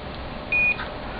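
A digital multimeter set to its diode range gives one short steady electronic beep, clear and close over a faint background hiss, lasting about a quarter second.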